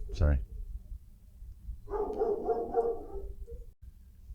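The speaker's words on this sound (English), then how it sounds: "My dogs love to let me know when somebody's at the front door." Dogs indoors bark at someone at the front door: one sharp, loud bark comes early, followed by a voice talking over the room.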